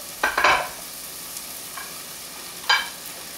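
Food being stir-fried in a pan: a few short bursts of scraping and sizzle as the pan is stirred, separated by quiet gaps, close and fairly soft with no talk.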